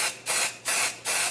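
Spray-on temporary Halloween hair color hissing from an aerosol can in three steady bursts, each about a third of a second long with short pauses between, close and fairly loud.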